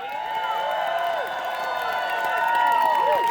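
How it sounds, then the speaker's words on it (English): A rally crowd for a congressional campaign cheers and applauds steadily, with overlapping whoops and shouts over a sustained roar that swells slightly toward the end. "So will you join me in giving them a big round of applause?"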